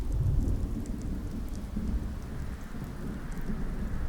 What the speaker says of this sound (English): Sounds like we might have a rad storm on the way.